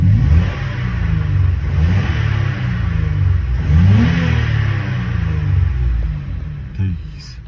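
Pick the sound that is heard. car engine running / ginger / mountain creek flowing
car engine running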